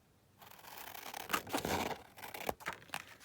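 Scissors cutting a paper piece down for a slanted craft pocket, a few close, quiet snips and rustles with the paper shifting between cuts, no talk.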